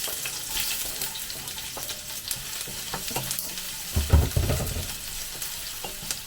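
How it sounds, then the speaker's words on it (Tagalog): Onions with garlic powder sautéing in a wok: a steady, close sizzle runs throughout, broken by scraping stirs and a louder clatter of the utensil partway through. "Ay igigisa na natin yung ating sibuyas."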